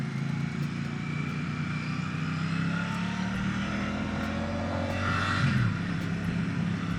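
A green Royal Enfield Super Meteor 650 motorcycle on the road, a steady droning engine hum with rushing wind noise throughout and a slight pitch shift midway, no talking.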